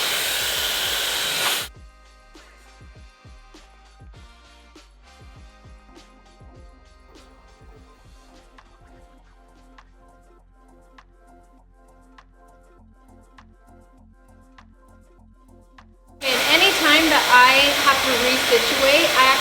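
A hair blow dryer roars loudly at the start, drops out to quiet clicks and handling noises in the middle, then blasts again at close range near the end.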